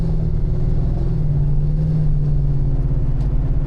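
A 1990 Ford Mustang fox body SSP running on E85 idles at close range with a deep, steady, lumpy rumble. The engine is heard alone and stays loud and low throughout, with no voices.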